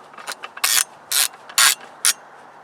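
An AAC 762-SDN silencer is ratcheted onto a rifle's muzzle device, producing a close series of sharp mechanical clicks with four louder grinding bursts in quick succession.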